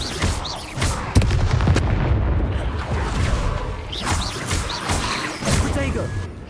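Incendio fire spell cast repeatedly in the Hogwarts Legacy video game amid combat: sharp, punchy bursts recur every second or so over a dense, loud bed of action effects.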